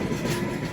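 Train wheels rattling over a crossover while pulling out of a junction near a loco shed, a close, continuous dense clatter and rumble heard alone for a brief moment.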